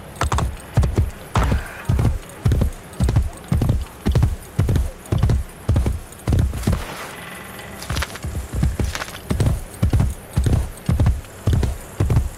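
Rhythmic hoofbeats of a galloping horse in Assassin's Creed: Brotherhood, loud and close, a steady repeating clatter with a brief pause midway before the pounding resumes.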